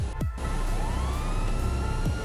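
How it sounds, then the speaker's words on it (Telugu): A police siren on a car, close and loud, sweeping up and down in repeated rising and falling wails over a low engine rumble. "చూసారు కదా గైస్ సైరన్ సౌండ్ ఎలా వస్తుందో"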